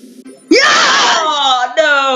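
A loud, drawn-out scream of excitement breaks out while Pokémon card packs are being opened. It rises sharply after a few quieter vocal sounds and holds strongly to the end.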